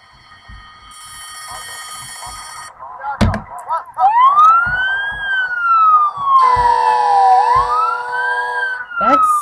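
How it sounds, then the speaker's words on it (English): A loud wailing emergency vehicle siren in The Sims rises and falls over game sound effects and thumps, with sharp impacts and electronic tones around it. "Siren is really loud."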